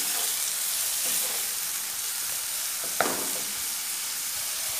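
Onions fry in a pan with a steady, close hiss of sizzling oil that runs unbroken throughout, plus one small clink of a utensil partway through.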